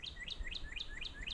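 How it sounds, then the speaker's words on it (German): A red bird in Hawaii gives a string of repeated, rising chirps, about six evenly spaced notes, clear and moderately close against a low background rumble. "Das ist dieser rote Vogel, den man vorhin gesehen hat."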